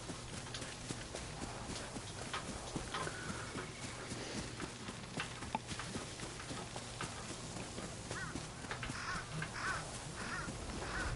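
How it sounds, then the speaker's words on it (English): Crows caw repeatedly in misty open country in the video game Ghost of Yotei, their scattered calls set back in the distance over a horse's clip-clopping hooves and a low ambient hum. "And I can hear lots of crows."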